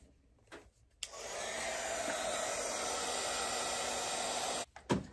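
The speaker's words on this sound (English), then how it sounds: "I'm going to use my heat gun." A heat gun blows hot air steadily over painted wood for about three and a half seconds, a loud, even hiss-like roar that starts abruptly and cuts off, with faint handling clicks before and after.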